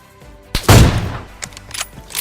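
A gunshot in the mobile battle-royale game PUBG Mobile, with an M24 sniper rifle in play: one sharp loud report that booms and decays, followed by a few fainter distant cracks.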